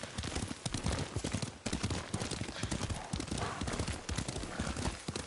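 Horse hooves clip-clop steadily in the video game Ghost of Tsushima, a quick rhythmic gallop running continuously and loudly throughout, with an occasional whinny.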